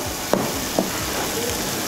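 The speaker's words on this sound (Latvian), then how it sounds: "tas triks ir cept tās pupas vienā kārtā" Beans fry in a single layer in a pan, giving a steady close sizzle with two brief sharp clicks or taps early on and no speech.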